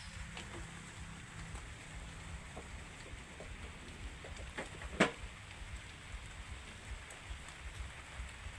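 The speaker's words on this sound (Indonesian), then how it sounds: "hujan guys" Steady light rain falling outdoors, a soft continuous patter with scattered drops and one sharper knock midway.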